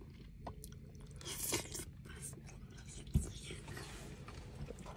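Cassava salad with green onions, cream cheese and mayo eaten inside a semi truck cab, heard as soft, close, moist chewing with a few faint crunches and one sharper click over a low engine hum.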